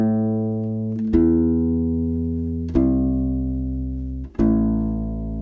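U-Bass playing a rock outro: three sustained, deep plucked notes, each ringing out and fading before the next, played solo and close.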